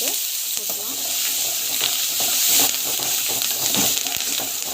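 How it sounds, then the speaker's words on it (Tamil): Mustard seeds, cumin, curry leaves and onion frying in hot oil, a steady loud sizzle with crackling pops and occasional stirring scrapes throughout, no voices. "கடுகு சீரகம் வந்து போட்டுட்டேன். அண்ட் தென் பார்த்திங்கன்னா கருவேப்பிலை, ஆனியன் வந்து போட்டுக்கலாம்."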